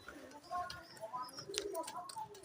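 Pigeons in a loft cooing in short overlapping calls at close range, with several birds calling over a busy background of other chirps and rustling.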